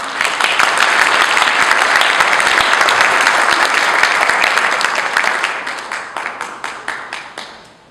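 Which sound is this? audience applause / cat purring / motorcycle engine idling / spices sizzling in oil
audience applause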